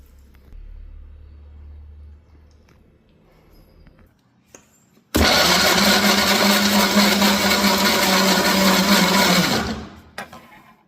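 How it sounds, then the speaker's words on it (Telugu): Electric mixer grinder blending chopped mango with sugar and milk into puree, a loud whirring motor roar that starts abruptly after quiet handling clatter, holds steady for about five seconds and then winds down, no talking. "మిక్సీ చేసుకున్నానండి. మ్యాంగో ప్యూరీ అయితే రెడీ."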